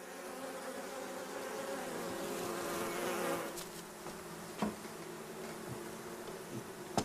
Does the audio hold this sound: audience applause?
no